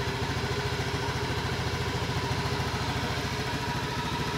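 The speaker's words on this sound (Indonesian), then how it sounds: "seketika itu juga motornya hidup kembali" A Honda Beat FI scooter engine idles steadily after restarting, its fast, even putter continuous and close throughout with no talk.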